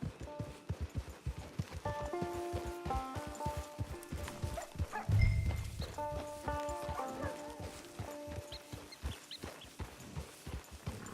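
Horse hooves clip-clopping in Red Dead Redemption 2, a steady rhythm of close, moderately loud footfalls over game music, with a brief louder thump midway.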